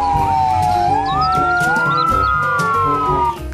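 A toy fire truck's electronic siren wails loudly and continuously, its tone sliding up and down in a repeating pattern close to the microphone.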